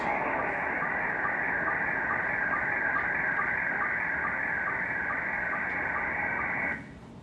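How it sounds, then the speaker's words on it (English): A steady warbling amateur radio slow-scan TV data tone with rhythmic ticks runs continuously for several seconds, then cuts off abruptly, leaving faint hiss. "there's slow scan TV, which will sound like this."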